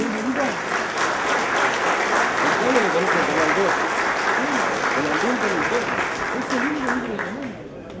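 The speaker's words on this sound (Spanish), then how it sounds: "El reconocimiento, el saludo y el aplauso para Buquebus" A loud, sustained round of audience applause at an official ceremony honoring Buquebus. The clapping stays dense and steady throughout, with crowd voices mixed in.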